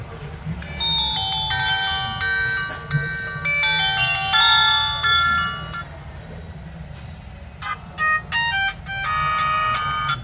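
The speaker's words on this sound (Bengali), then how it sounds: "ফোনটির রিংটোনের সাউন্ড কেমন ছিল" A GDL G9 keypad mobile phone plays its ringtone, a loud, bright electronic melody of repeated tonal notes that pauses briefly and then resumes with a choppier pattern of beeping tones, heard alone.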